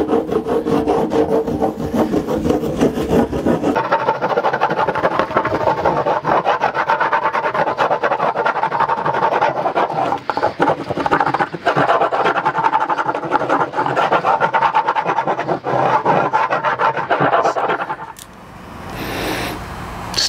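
Surf wax bar rubbed steadily across the flat deck of a surfboard, a continuous close scraping and rasping with busy back-and-forth strokes, loud and unbroken before tapering off near the end.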